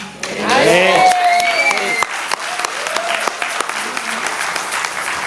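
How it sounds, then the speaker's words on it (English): Audience applause at a Kwanzaa celebration at Malcolm X College, a loud burst of clapping that swells then continues steadily, with voices and whistles rising over the crowd near the start. "Y'all clap it up."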